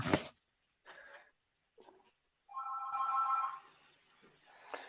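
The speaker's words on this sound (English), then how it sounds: "My phone's going." A mobile phone rings indoors, with a few short bursts and then one sustained melodic ringtone tone, separated by quiet gaps and soft breathing.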